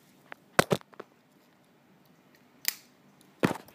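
Small scissors on a pocket multi-tool snip in short sharp bursts: a quick double cut, a lighter click, then two more isolated snips spaced apart, close and fairly quiet in a still room.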